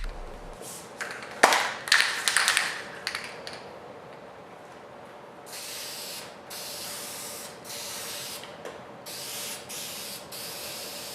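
Primer sprayed onto a car fender in a garage, heard as a few short spray bursts followed by several longer hissing passes with brief pauses between them and light clicks of the nozzle.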